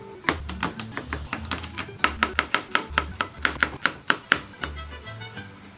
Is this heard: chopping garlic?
yes